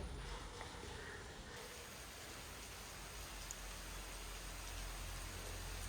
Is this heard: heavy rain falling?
yes